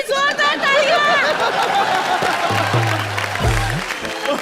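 A studio audience on a Hindi TV comedy show applauds and chatters. Voices and laughter ring over a background of clapping, and the crowd noise stays dense throughout.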